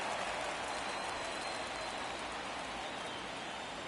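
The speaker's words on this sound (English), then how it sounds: "Raining here in Atlanta, but a light rain." Steady light rain falls during a baseball video game set in Atlanta, a continuous soft hiss with no breaks.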